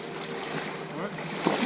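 Ocean waves and wind wash around a sailboat out on open water in a steady, close, broadband rush, with a brief splash near the end.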